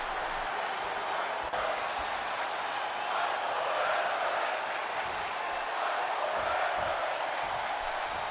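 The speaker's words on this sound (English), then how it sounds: "This crowd here in Tokyo is eating this up." Broad, steady roar of a Tokyo wrestling arena crowd cheering in WWE 2K25, a dense wash of voices and applause holding at a constant loud level throughout.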